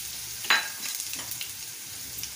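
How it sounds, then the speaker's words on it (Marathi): Curry leaves, asafoetida and chili powder sautéing in a pan for matar paratha, a soft, steady sizzle with one sharp clack of a utensil early and a few lighter scrapes after. "आणि थोडं परतून घेऊया."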